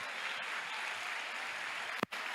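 A church congregation applauds in a steady, continuous wash of clapping that fills the room, ending with a brief louder bump.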